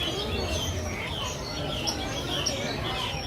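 Birds chirp and coo in a busy outdoor setting at Walt Disney World, a steady murmur of bird calls with some faint background noise.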